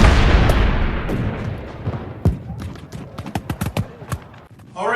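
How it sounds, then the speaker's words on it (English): Artillery fires during a Battle of Brandywine war game, with a heavy boom at the start, another sharp blast partway through, and a rapid string of crackling shots that follows. "Knyphausen's artillery wheels and fires across Chad's Ford."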